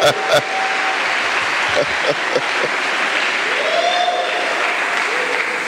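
A church congregation claps at length, dense and sustained throughout, with a singer's voice and a few loud shouts over the applause.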